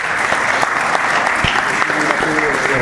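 Loud, dense applause fills a room at a regional football awards ceremony as a player collects a trophy, steady clapping from a crowd throughout, with a voice talking over it.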